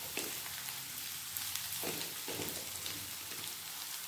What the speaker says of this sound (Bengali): ভালোভাবে আদা রসুন ভেজে নেব